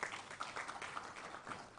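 Audience at an LPG summit in Mombasa, Kenya giving another round of applause: a brief, faint, steady patter of clapping from a seated crowd in a hall.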